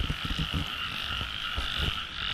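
Field frogs croak at night in Ilocano farmland, a dense chorus of rapid, repeated croaks pulsing close by and fairly quiet, with no other sound over it.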